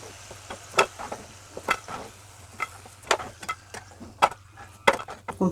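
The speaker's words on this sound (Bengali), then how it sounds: "আমি সব বাদ বাকিগুলো ভেজে নেব" Nimki snacks fry in a pan with a quiet background sizzle, broken by sharp clicks and scrapes as the pieces are stirred and turned. The knocks come irregularly, and nobody speaks.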